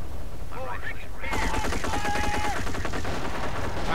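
Rapid bursts of automatic gunfire and rifle shots in the World War II strategy game Company of Heroes, a dense, continuous crackle of overlapping shots under faint speech.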